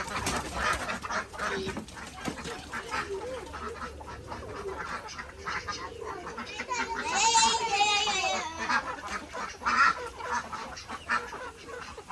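Farm ducks being fed fish waste set up a busy chorus of quacks and honking calls that swells toward the middle, with faint voices in the background.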